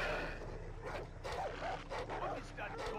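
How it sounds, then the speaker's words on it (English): A dog in the game Far Cry 3 barks repeatedly, a run of sharp yips spaced irregularly over a low steady background hum, fairly close and clear. "What is that dog going off about?"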